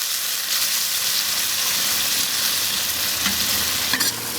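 Pork intestines stir-fried in a wok give a continuous close sizzle and hiss, with a few scraping stirs and clinks of the spatula near the end.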